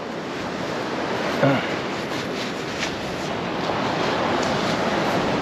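Heavy rain and wind lash Beesands Beach on the UK coast, with surf breaking nearby, a constant broad wash of noise with a brief knock early on.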